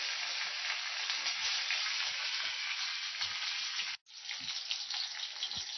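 Fish sizzling in hot oil in a pan, a bright, steady crackle close by that dips abruptly for an instant, then resumes with small pops and spatters.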